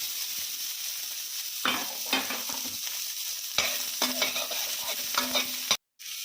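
Onions frying in oil in a pan for a Telugu dondakaya ulli karam dish, a steady sizzle broken by bursts of stirring and scraping, with a brief drop to silence near the end.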